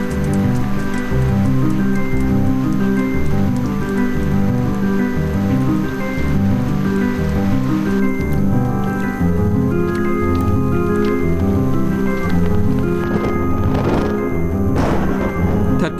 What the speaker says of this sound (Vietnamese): Một khi những cơn mưa xuất hiện, nó sẽ làm không khí nóng nực dịu đi.